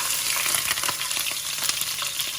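Wet prawns hit hot oil in a wok for a Thai stir-fry, hissing in a dense, even sizzle with sharp pops of spitting oil scattered throughout; no voices.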